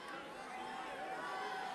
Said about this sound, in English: We hear the crowd chanting, supporting Belarus